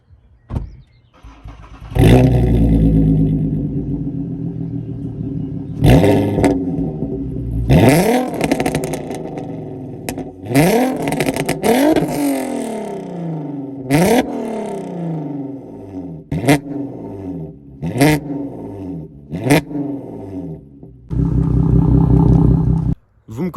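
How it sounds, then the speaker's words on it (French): A car with a decat straight-pipe exhaust and DSG6 gearbox revs hard in repeated loud bursts, roaring up and dropping back with crackling pauses, close and very loud, without speech over it. "C'est un tube, donc Decata, full tube, ça fait un bordel monstre."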